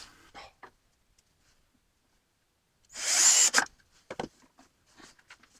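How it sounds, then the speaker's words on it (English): A power drill drives a screw into soft wooden boards during shelf building, making one loud whirring burst of under a second in the middle, with faint handling knocks and scrapes around it. "these boards aren't very hard, so it's easy to drive the screw into them"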